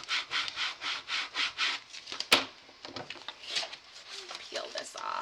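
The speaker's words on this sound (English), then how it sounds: "take my scraping tool and scrape this across the back" A scraping tool is rubbed across the back of a sheet of paper in rhythmic, rasping back-and-forth strokes close by, with one sharp click partway through, and a voice talks over it.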